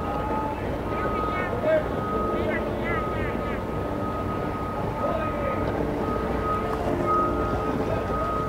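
Wind blowing at a boat ramp during a yacht launch, a steady rushing roar buffeting the microphone throughout, with faint background activity underneath.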